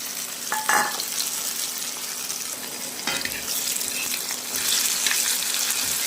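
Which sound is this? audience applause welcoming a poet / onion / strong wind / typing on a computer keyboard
onion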